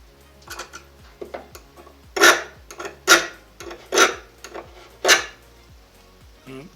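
A hardness test file rasps across a forged coil spring steel blade in a series of short, loud scrapes, six or seven strokes in a loose rhythm, close up and with no talk.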